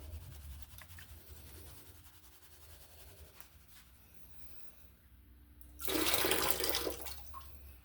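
Quiet scraping and handling noises give way to a sudden rush of water poured off from a gold-prospecting dump bucket, lasting a couple of seconds before fading.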